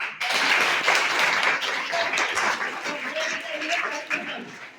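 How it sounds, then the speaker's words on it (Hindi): An audience at a gathering claps for a provincial secretary, a dense burst of applause with overlapping voices and chatter mixed in. "ताली बजाओ आप।"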